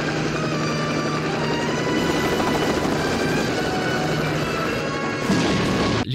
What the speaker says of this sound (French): un mini-hélicoptère, un autogire